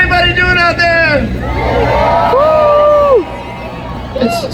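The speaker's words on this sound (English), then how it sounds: "Oh my gosh, what a crowd." A large outdoor crowd at a Holiday Train Christmas concert in Saskatoon, Saskatchewan, cheers and whoops in a sustained roar, with someone speaking loudly over the crowd noise.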